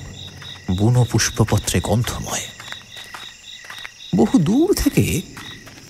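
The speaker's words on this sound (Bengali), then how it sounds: "ঝিঝির ডাকে শব্দময়" Crickets chirp at night in a steady high trilling bed behind a narrator's voice, which is spoken clearly over it.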